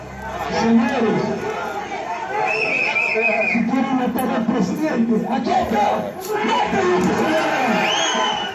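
A crowd of rioters gathers outside a building in Ecuador, a dense roar of shouting and chatter that holds steady throughout with some voices rising above the mass.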